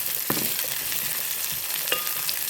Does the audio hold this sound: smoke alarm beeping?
no